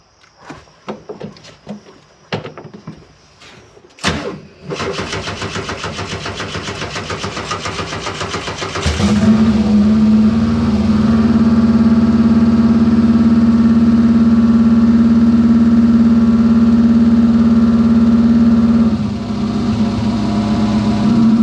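A 1973 VW Super Beetle fitted with a swapped-in Subaru engine is heard starting up. A few clunks and cranking bursts come first, then the engine catches and settles into a loud, steady, slightly high idle that runs to the end.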